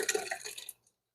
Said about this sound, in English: Now I'm going to add in the tomatoes that I pureed.